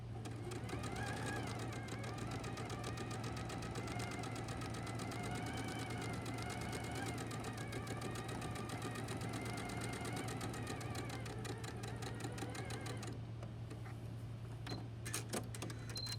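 A sewing machine stitching quilting fabric pieces in a steady fast rhythmic chatter with a constant motor hum that runs on for many seconds, faint and close, with no talking.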